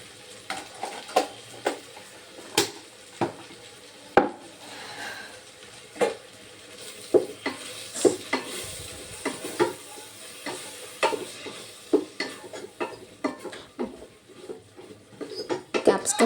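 A spatula stirs a capsicum curry with beetroot in a pan, making repeated sharp scrapes and taps in a steady rhythm over a soft, continuous sizzle, close and fairly loud.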